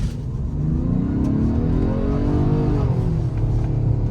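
A 2020 Ford Explorer Limited Hybrid SUV pulls away from around 1500 RPM, its engine note climbing steadily in pitch, loud and close, as the vehicle accelerates.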